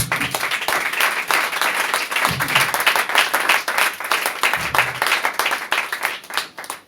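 A church congregation applauds during a French-language sermon, loud close rhythmic clapping from a crowd, pulsing in uneven waves with a few low shouts mixed in.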